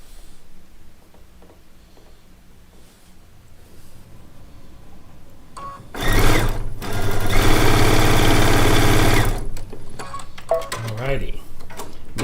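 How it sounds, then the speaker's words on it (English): A sewing machine runs in a steady, loud burst stitching quilt rows of a disappearing four-patch charm pack quilt, a continuous whirring hum lasting a few seconds before slowing and stopping. "Now all I have to do is sew the 3 rows together"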